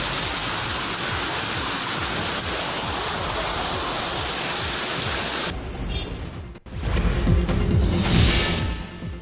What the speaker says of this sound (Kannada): ಬಿರುಗಾಳಿ ಸಹಿತ ಧಾರಾಕಾರ ಮಳೆಯಾಗಿದೆ